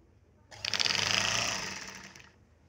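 A sewing machine stitches cloth in a fast, even mechanical whirr that starts abruptly, runs loud and steady for nearly two seconds, then stops, with no talking.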